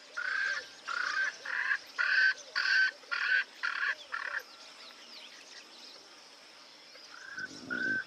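Swainson's francolin giving a loud, harsh series of about eight rhythmic grating calls, close and dominant, followed by a pause, then softer repeated notes and a brief rustle near the end.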